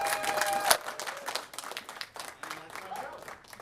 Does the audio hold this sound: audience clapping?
yes